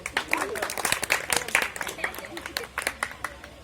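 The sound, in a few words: audience applause at a live comedy magic show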